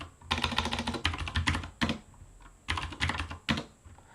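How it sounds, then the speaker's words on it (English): Fingers type a password on a computer keyboard in several quick bursts of clicking keystrokes with short pauses between them, close and clear, with no talking. "I'm just gonna type in a password that matches their name."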